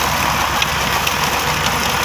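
A tractor engine runs steadily on a farm, a continuous close, fairly loud mechanical drone with a slight vibrating rattle and no voices over it.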